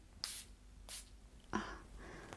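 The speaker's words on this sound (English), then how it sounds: "Shall I spray some on you too?" Two quick, airy spray bursts close by, then a short sharper spritz and a faint trailing hiss, with quiet pauses between them.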